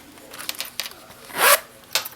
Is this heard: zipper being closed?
yes